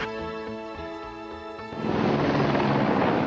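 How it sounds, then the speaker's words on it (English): A helicopter sweeps in close overhead, its loud, dense rotor roar abruptly swamping the harmonic music that plays in the first half and then holding steady to the end. "The helicopter's getting a bit close, isn't it?"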